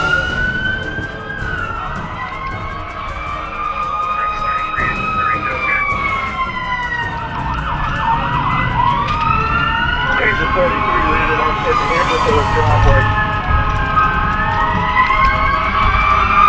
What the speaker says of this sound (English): Engine 15 screams by the ambo on its way to the call.